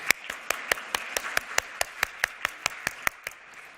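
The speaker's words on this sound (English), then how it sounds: "So we'll all give her a big round of applause." Sparse audience applause at a keynote event, a small scattering of distinct claps in a steady rhythm, roughly a dozen sharp hand strikes spread evenly, fairly quiet with no voices.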